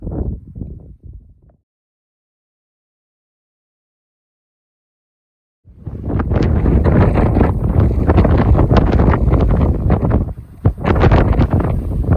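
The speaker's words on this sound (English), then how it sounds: "Wind is crushing me up here." Strong wind buffeting a hiker on the Guadalupe Ridge Trail in the mountains, loud roaring gusts battering the microphone continuously after a few seconds of silence, with a brief burst of rumble at the start.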